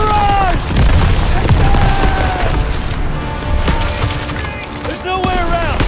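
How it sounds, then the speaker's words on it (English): Artillery barrage in a Call of Duty WWII battle on Hill 493, with repeated booming blasts and splintering debris, dense and continuous, mixed with battlefield shouts and faint voices. "Artillery barrage!"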